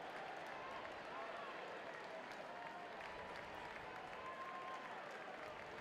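Baseball stadium crowd at an LSU game cheering and clapping with the bases loaded, a steady distant roar of applause washing under a play-by-play radio voice.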